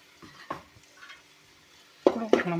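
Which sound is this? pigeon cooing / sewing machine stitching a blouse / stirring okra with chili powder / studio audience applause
stirring okra with chili powder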